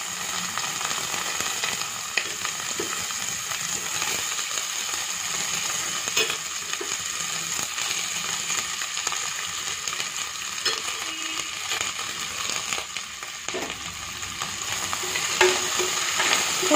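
Chopped onion and green chili frying in hot oil for vegetable biryani: a steady, dense sizzle with scraping stirring strokes throughout, fairly close and continuous, with no talking.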